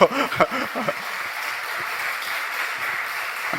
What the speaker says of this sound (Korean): 근데 박수는 왜 치시는 겁니까?